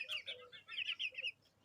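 A chicken clucks in short bursts, a few quick calls in a row, fairly close and moderately loud over faint background noise.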